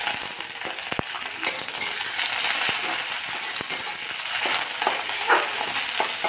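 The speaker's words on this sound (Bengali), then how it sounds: "তেলের মধ্যে কারি পাতা দেবার সাথে সাথেই খুন্তি দিয়ে কারি পাতাটাকে নেড়ে দিতে হবে, আর দেব চেরা কাঁচা লঙ্কা।" Curry leaves and slit green chillies frying in hot oil, a bright continuous crackling sizzle with sharp taps and scrapes of a spatula stirring them, close and without talk.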